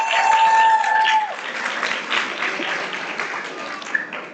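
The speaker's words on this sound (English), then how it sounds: "So please give them a round of applause because they're sitting in the audience" A school TEDx audience breaks into applause, a broad wash of clapping that follows a brief high whistling tone at the start and carries on steadily, with a sharper clap near the end.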